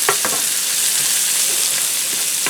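About 1.5 pounds of salt-and-pepper-seasoned sirloin steak sizzles loudly in a skillet, a constant hiss of frying overlaid with a few quick scraping stirs near the start.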